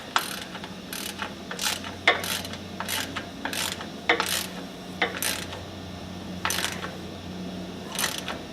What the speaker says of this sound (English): just put your wrench on there and tighten it down